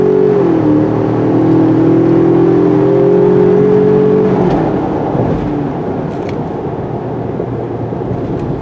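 2021 Ford Ranger Tremor with its EcoBoost turbo engine accelerating hard, a loud rising engine roar with climbing tone over several seconds that then eases into a broad rushing drone, heard from inside the vehicle.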